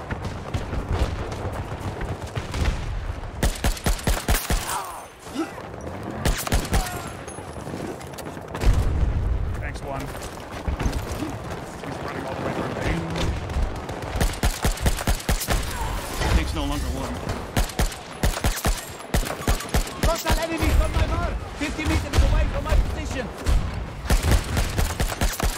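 A suppressed G428 rifle fitted with a wrapped suppressor and LWG grip fires in Battlefield 2042, rapid bursts of muffled shots amid surrounding battle explosions, with voices talking over parts of it.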